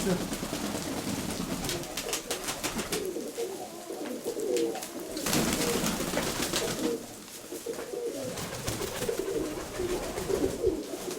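Soft, low cooing of pigeons repeats steadily throughout, accompanied by scattered clicks and rustling, with occasional quiet background murmur.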